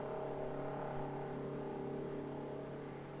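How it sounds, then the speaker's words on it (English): Aircraft tug engine at Melbourne Airport, after pushing an aircraft back, runs as a steady low diesel hum with a faint whirring tone, continuous and moderately distant, with no voices. "That engine you can hear is the tug that pushed EFR out"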